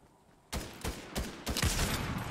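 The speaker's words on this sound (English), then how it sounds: "Who is shooting?" Several loud bursts of gunfire ring out in a Fortnite match, arriving in separate volleys with short gaps between them and no talk over them.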